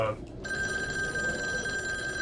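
A telephone in the horror game Devotion rings with a steady electronic trill that starts after a brief lead-in and keeps going at an even, moderate level with no one speaking.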